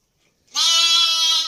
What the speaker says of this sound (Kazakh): Мынау қозы бүгін қоздаған